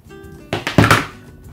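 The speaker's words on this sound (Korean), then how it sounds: "기존 총알 단자를 자릅니다" A short, dull crunch as bullet connector terminals on e-bike battery wires are snipped off, a couple of quick cutting clicks close up with no talk.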